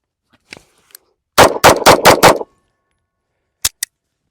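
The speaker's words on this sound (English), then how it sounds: "see how quickly I could present the pistol, fire 5 shots" Five rapid 9mm pistol shots from a Beretta 92G Elite LTT fired in a quick string, loud and close, followed by two more sharp reports after a short pause.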